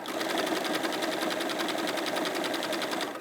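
A sewing machine runs fast and steady, stitching fabric for a bag over a slippery mat, its rapid mechanical chatter continuous and close for the whole stretch with no pauses.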